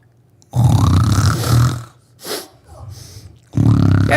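A storyteller's voice imitates loud snoring: two long, rattling inhaled snores with a short snort between, close and exaggerated for a bedtime story.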